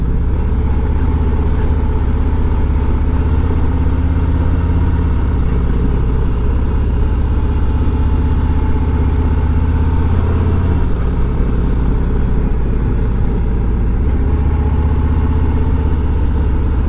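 A motorcycle engine drones steadily and loudly at close range while the rider brakes through a curve, a continuous mid-pitched hum with faint mechanical clatter and no speech.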